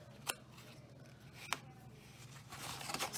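Scissors snipping a thin sliver off card stock for a handmade photo box card. Two crisp, separate snips sound close by, followed by quiet paper handling.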